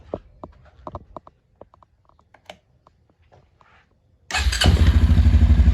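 After a run of light tool clicks and taps, a Suzuki LTZ250 QuadSport ATV engine with a freshly cleaned carburetor and adjusted valves fires up and runs loud and close at a steady, rapid idle.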